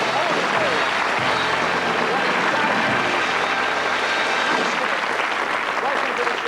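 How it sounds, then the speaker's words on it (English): A TV studio audience applauds two volunteers at a magic show, steady dense clapping that fills the whole stretch at high, even loudness. "Nice round of applause for 2 volunteers from the audience."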